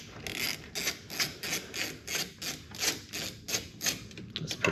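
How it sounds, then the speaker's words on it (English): A ratchet with an 8mm socket loosening a hose clamp on a 1993 Nissan Skyline with an RB20DET engine: close, crisp ratcheting clicks in about a dozen rhythmic bursts, steady and alone. "we're gonna get our ratchet with our 8mm on it, right there. We're just gonna loosen that hose clamp."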